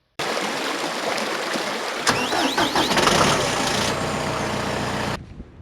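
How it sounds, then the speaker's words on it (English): An engine-driven welder cranks and fires up, catching with a rough burst and settling into a loud, steady running rumble close by before cutting off abruptly. "I think it's time to fire the welder"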